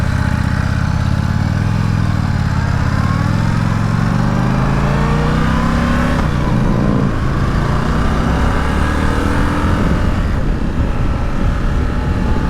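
An Indian Super Scout motorcycle's V-twin engine roars steadily, its pitch climbing as it revs up through gears, close and continuous with no talking.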